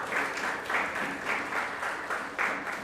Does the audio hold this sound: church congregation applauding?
yes